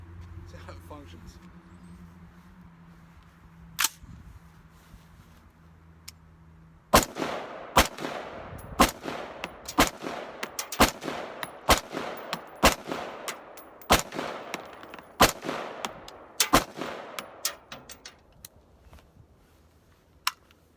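Rifle fired while testing a small magazine, with a quiet lead-in followed by a string of sharp, close gunshots spaced unevenly about one per second, each leaving a brief echoing tail.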